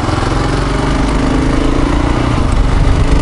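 A Kawasaki KLR650 dual-sport motorcycle engine runs steadily at a close, loud, even idle, with no voices over it.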